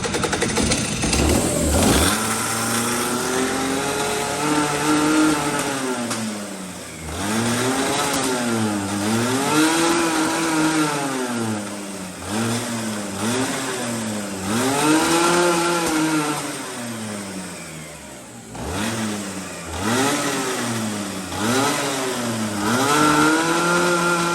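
Rotax Max racing kart engine running loud and close, its pitch rising and falling through repeated revs over about twenty seconds, with a brief dip near the start and middle.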